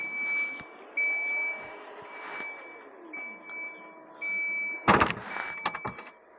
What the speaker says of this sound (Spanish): Un portón que al momento de cerrar tiene un sonido para alertarnos de que estamos cerrando el portón